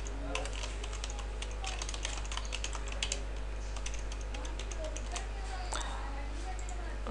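Someone types an email address and password on a computer keyboard, a steady stream of close, light key clicks over a constant low hum, with a voice speaking now and then.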